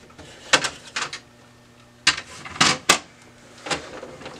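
Removing the rear door of an HP P4015 laser printer produces a series of sharp plastic clicks and clacks, some in quick pairs, separated by short quiet gaps.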